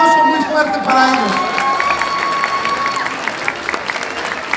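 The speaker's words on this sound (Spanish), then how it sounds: "Un aplauso muy fuerte para ellos." Loud applause and some cheering from a crowd at a comics convention for contest winners, with a voice talking over the start and steady clapping continuing to the end.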